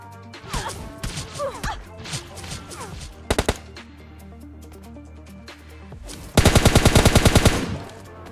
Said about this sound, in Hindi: अब बंदा पता नहीं कौन सी गन चला रहा था